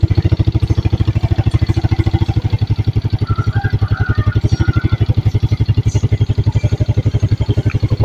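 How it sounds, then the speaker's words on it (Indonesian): A carbureted Yamaha Mio Sporty/Soul scooter engine idles loud and close with a fast, even single-cylinder putter, thumping steadily throughout; the engine is noted as smoking heavily. "Nah, motor sudah berbunyi."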